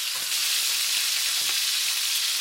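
Steak and potato chunks stir-frying in a hot pan, a dense continuous sizzle with a couple of brief stirring scrapes, close and loud.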